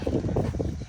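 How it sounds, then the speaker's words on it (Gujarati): Wind blows across an open outdoor area near a cattle shed, a low, buffeting rumble pressing on the microphone in uneven gusts. "અહીંયા થોડું ખુલ્લું વાતાવરણ છે એટલે તમને પવન આવશે"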